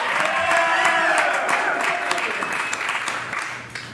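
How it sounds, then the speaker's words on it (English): A stand-up comedy crowd applauds and cheers as a comic is introduced, loud dense clapping with whoops that gradually thins out and fades toward the end. "So let's hear it for OkPants and breaking your bones as an adult."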